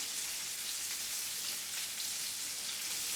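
Meat loaf kebabs sizzling on a grill, a steady bright hissing crackle close up, continuous and even for the whole stretch without talking.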